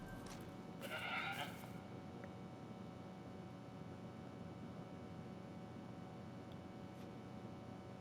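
Goats bleating in the hunting game theHunter: Call of the Wild on the Cuatro Colinas map, a brief cluster of calls near the start over a steady low ambient hiss, then fading to quiet background.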